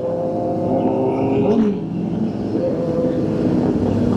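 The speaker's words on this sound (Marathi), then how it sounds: "मस्त साऊंड करते ती गाडी, मला आवडती." A superbike engine revs during a group ride on the road, a loud continuous motor drone with a brief rising rev swell midway, up close with wind rush.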